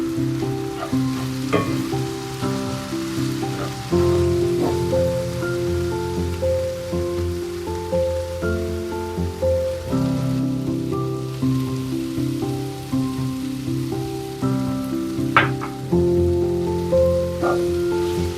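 Seasoning is mixed into chicken thighs sizzling in a pan, a steady crackling fry throughout with intermittent scraping and stirring strokes and occasional sharp clinks of a utensil, loud and close with no voices.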